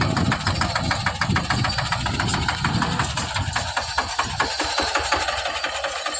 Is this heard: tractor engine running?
yes